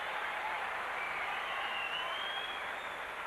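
A tennis crowd applauds during a Henman versus Rusedski match, with a steady, dense patter of clapping from a large audience that keeps an even level for the whole stretch.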